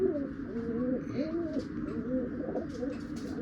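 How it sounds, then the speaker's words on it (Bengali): A pair of pure red Chinese pigeons, white-eyed and white-beaked, coo steadily in close rolling phrases, near and clear over a faint background hum. "এক জোড়া পিওর লাল চিনা পায়রা"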